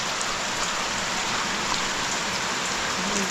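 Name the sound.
rain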